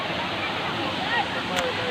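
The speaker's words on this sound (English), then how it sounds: "So yeah, beautiful little waterfall" A small waterfall in Kulen, Cambodia rushes in a steady, broad wash of flowing water, close and fairly loud, with a faint voice briefly audible beneath it.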